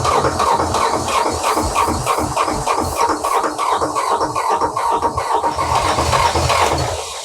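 A large yacht engine, unused for seven years, cranks and catches, then runs with a rough, pulsing idle, loud and close.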